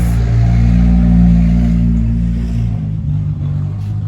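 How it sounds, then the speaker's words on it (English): A car rumbles past close by, its low engine drone loud at first and then slowly fading as it moves away. No talking. "let me let this car pass"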